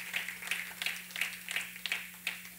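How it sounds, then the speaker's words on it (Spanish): A church congregation claps in a steady, rhythmic beat, each clap sharp and evenly spaced over a low hum. "Den un aplauso fuerte al Señor."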